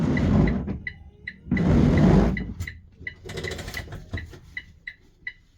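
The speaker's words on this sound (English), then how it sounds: "My washer fluid works." A school bus's windshield washer sprays in two hissing bursts while the wipers sweep back and forth, their motor whirring with regular clicks and thumps at each stroke, close and clear.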